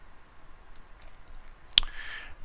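A single crisp mouse click on an OK button in image-editing software, short and close over a faint quiet background.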